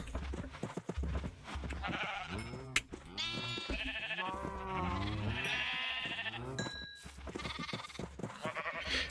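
Minecraft sheep bleat repeatedly, several wavering baa calls in quick succession, loud and close, over a low game background.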